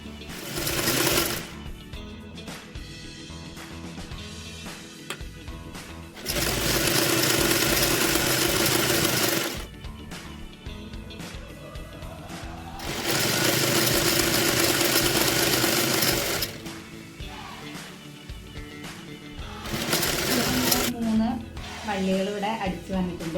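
A sewing machine stitches an apron in three loud, fast, buzzing runs of several seconds each, separated by pauses where a person talks quietly nearby.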